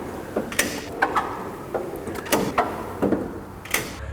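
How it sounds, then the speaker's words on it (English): Drawers on a Snap-on toolbox slide open and shut repeatedly, each pull bringing a scraping metallic rattle from the slides and sharp clacks as a drawer stops, close and fairly loud. "can you at least make the drawer slides work consistently and not make noise when you open and close the drawers?"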